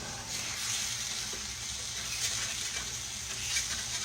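Sweet potatoes frying in a pan on a home stove, a soft steady sizzle and faint patter of hot oil, quiet and continuous with no talking.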